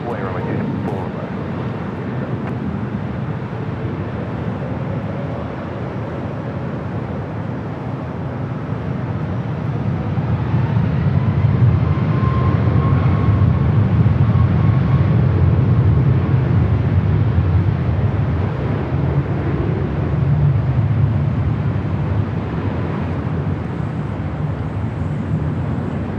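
A jet airliner takes off from runway 24 left at LAX, its engine roar building to a sustained loud rumble that stays near for a while before easing slightly.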